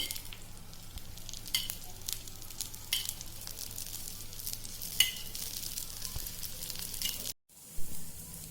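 Dosa batter sizzling steadily on a hot pan as oil is poured around its edges, a continuous close crackle with occasional scraping stirs, briefly cutting out near the end before resuming.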